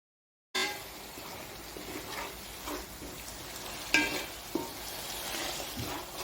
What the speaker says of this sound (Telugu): కలిపి బాగా వేయించుకోవాలి. ఇలా ఉల్లిపాయ గుజ్జు, టమాటా గుజ్జు వేగుతుండగానే పసుపు వేసి ఇలా బాగా కలుపుకోవాలి.